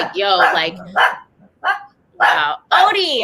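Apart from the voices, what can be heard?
dog barking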